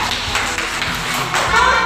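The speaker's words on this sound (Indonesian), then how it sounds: "Tepuk tangan semuanya." A classroom of children applauding, with quick, scattered claps and taps running briefly beneath talk in the room.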